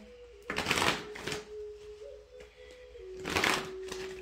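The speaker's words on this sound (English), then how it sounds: "Pull some cards here." Tarot cards being pulled and shuffled close by, two bursts of riffling swishes separated by quieter handling, over a faint steady tone.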